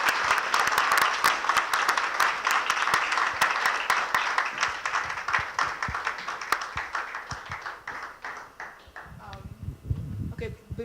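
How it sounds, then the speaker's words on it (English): An awards ceremony audience at the Hilton Hotel in Los Angeles breaks into lively clapping with sharp individual claps, gradually thinning out and fading toward the end as a few stragglers finish. "Please, a round of applause."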